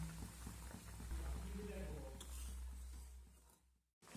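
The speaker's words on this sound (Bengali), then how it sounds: "এবার এই টকটা আরও বেশ কিছুক্ষণ আমি ফুটিয়ে নেব" Prawn tok, a sour Bengali curry, bubbling steadily in a pot on the stove, a soft continuous simmer with low rumbling and faint clinks, fading to quiet near the end.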